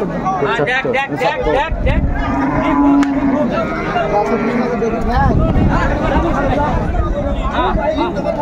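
Cows and calves moo repeatedly amid a busy cattle market crowd, with steady chatter and speech babble running under the lowing throughout.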